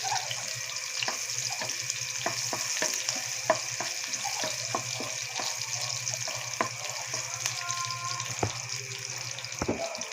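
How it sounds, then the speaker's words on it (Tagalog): Garlic and onion sautéing in a pan for pork rib caldereta, a faint continuous sizzle with scattered light taps and scrapes of stirring, quiet and close with no talking. "Tapos maggigisa na tayo ng bawang"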